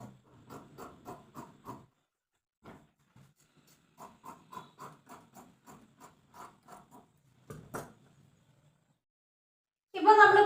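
Scissors cut fabric for the body piece of a frock-style nightie, making runs of quick, close rasping snips in rhythmic bursts separated by short pauses, ending in a louder burst of noise.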